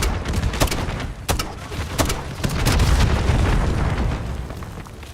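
Video game gunfire in a shooter match rattles on steadily, with sharp shots and heavy booming blasts over a rumbling low-end roar, loud and close throughout.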